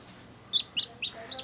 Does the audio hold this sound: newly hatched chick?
yes